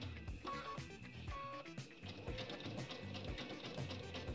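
Domestic sewing machine stitching a machine appliqué, rapid close mechanical whirring and clicking of the needle in short bursts, quiet and steady with no talking.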